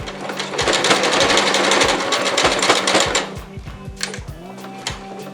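A sewing machine stitching a zigzag pattern through fabric with elastic while making a face mask, a loud, close, steady rapid chatter for about three seconds, then slower, spaced needle thumps as it eases off, with no talk.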